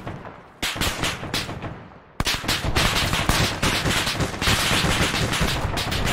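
Bursts of heavy machine gun fire in the military shooter game ARMA, loud and close, start with a few short volleys and then turn into sustained rapid fire with distant shots mixed in.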